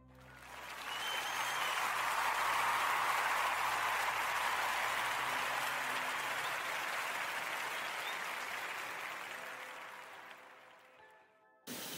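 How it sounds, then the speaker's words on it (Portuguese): An audience gives a long round of applause that swells to a dense, steady clatter of clapping, holds for several seconds, then slowly fades out before a brief burst at the end. "eu quero pedir a toda a gente uma enorme salva de palmas"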